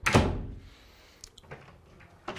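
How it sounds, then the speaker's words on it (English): A fire door fitted with a hidden Perco closer swings shut on its own, landing with a solid close thud at the start, then faint latch clicks and small knocks trailing off in a quiet room. "if I leave the door itself, it will automatically close"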